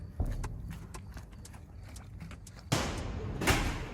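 Horse hooves clip-clopping at an even walking pace, a steady run of soft knocks on a hard surface at moderate distance, growing louder and denser near the end.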